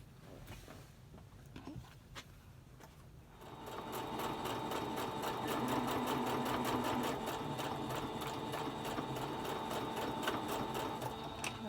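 Sewing machine stitching fabric mask panels together with a quarter-inch seam, a rapid steady chatter of stitches starting after a few seconds of soft handling noise, close and moderately loud.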